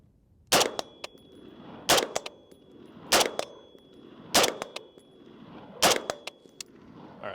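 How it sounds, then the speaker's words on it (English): Rifle shots ring out five times at a steady interval of roughly one and a half seconds, each a sharp crack with a metallic ring and a short echo trailing off outdoors, close and loud. "Let me shoot a couple more and then we'll try a different gun."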